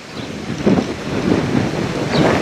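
Wind and sea waves on the Baltic Sea coast near Kellenhusen, Dahme and Grömitz, a loud rushing wash with heavy wind buffeting on the microphone, surging in swells with no talking.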